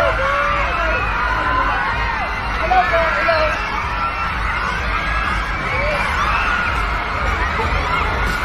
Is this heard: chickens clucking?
no